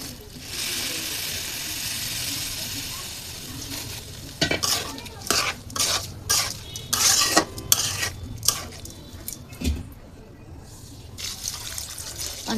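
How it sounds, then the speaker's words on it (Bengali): Liquid milk goes into a pot of frying chilies and spices for chicken tehari and is stirred in. A wet sizzling wash gives way to a run of rhythmic, close spoon scrapes against the pot. "তরল দুধ দিয়ে দিলাম"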